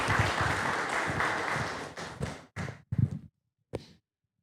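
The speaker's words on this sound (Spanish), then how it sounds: "Fuerte el aplauso para Joana" Audience applause for a player on a women's football club roster, a dense burst of clapping that thins out into a few last scattered claps before fading.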